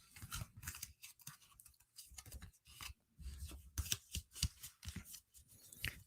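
Tarot cards are shuffled at close range in quick, irregular riffles and rubbing slides. The sound is soft and papery, with the bursts coming one after another and no voices.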